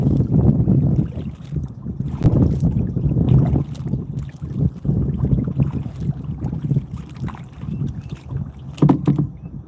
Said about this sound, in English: Hey, the wind over here. I know it might be loud